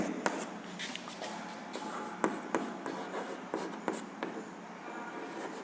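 Chalk or marker writing on a board during a Hindi-language science lesson on force and motion, a steady scratchy scrawl with repeated sharp taps and strokes, close and fairly quiet, with no talk over it.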